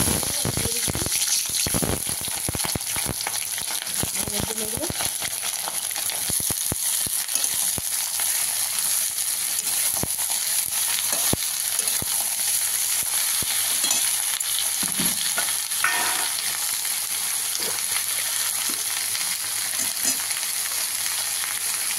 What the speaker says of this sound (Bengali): তেল গরম হয়ে গেছে, এবার আমি কালো জিরা ফোড়ন দিয়ে দিচ্ছি।